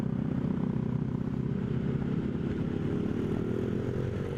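A Honda Rebel 500 cruiser motorcycle rides along near the Ayala Alabang interchange, its mid-pitched engine droning steadily with wind rush, rising slightly in pitch toward the end, with no talking.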